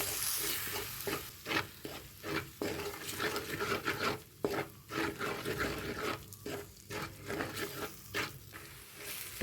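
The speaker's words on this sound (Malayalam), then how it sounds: "തക്കാളിയുടെ പച്ചമണം മാറുന്നതിന് വരെ ഒന്ന് ഇളക്കി കൊടുക്കാം." Ground tomato is stirred in a hot pan for a peppery chicken dish, with repeated scraping strokes in an uneven rhythm over a constant close sizzle.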